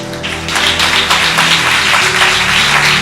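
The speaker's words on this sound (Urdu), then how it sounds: "آؤ ذرا تالیاں زور سے بجاؤ" A congregation at a church service claps together, a dense, rhythmic wash of many hands rising in the first half-second and then holding loud and steady, with a sustained tonal hum underneath.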